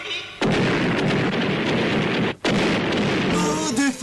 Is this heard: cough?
no